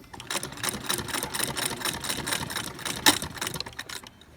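A sewing machine runs steadily at close range, stitching along the edge of a fabric bag with a fast, even mechanical whirr and one brief click near the end.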